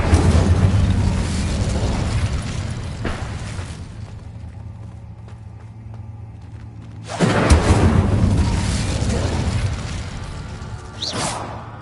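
Fiery spell blasts in the video game Hogwarts Legacy, two loud bursts with whooshing roar, the first fading into a quieter rumbling lull before a second explosive surge sounds near and dense.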